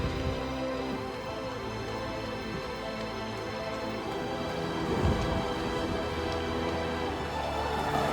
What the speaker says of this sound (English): Sunday in the rain once again for you guys.